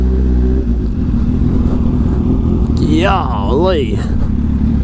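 Cars at a busy car meet rumble and rev loudly and continuously throughout, with a bright engine note rising and falling near the end; a person speaks over the noise.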